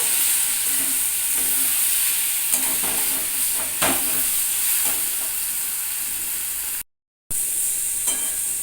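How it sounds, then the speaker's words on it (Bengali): Brinjal sautés with spices in a pan for a Bengali begun kasha, a steady sizzling hiss with occasional scraping stirs close by, briefly cut by a moment of silence. "আবারও সমস্ত কিছুর সঙ্গে ভালো করে কষিয়ে নেব"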